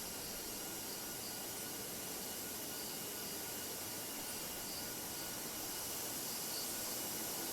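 An aircraft taxiing in the Tower Sim 3 game gives a constant broadband jet whine and hiss, steady and fairly faint, with no voices and no change in level.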